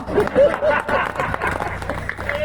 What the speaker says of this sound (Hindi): इतनी तालियां मिली बहुत।